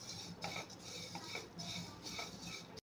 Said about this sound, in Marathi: त्यामुळे कसं खोबरं हे छानच मंद आचेवर भाजून घ्यायचं